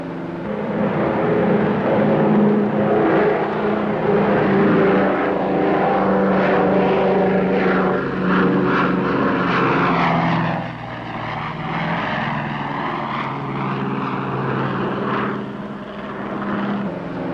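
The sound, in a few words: Lockheed Super Constellation propeller airliner taking off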